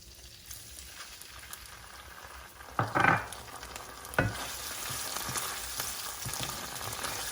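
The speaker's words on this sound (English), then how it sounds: "it's starting to sizzle with the tomato puree" Tomato puree sizzling in a hot pan for a king prawn vindaloo, a steady soft crackling fry with a louder spurt of hissing as it hits the oil and occasional stirring scrapes, close and unaccompanied by talk.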